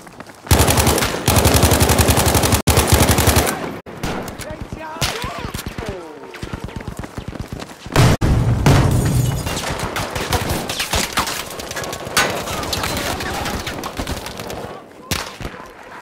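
Gunfire in a war video game, with a loud burst of rapid automatic fire up front, then scattered shots and sporadic bursts, while a voice talks at times.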